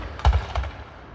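Fireworks go off at a town display, two quick muffled booms heard at a distance in quick succession, with no talking.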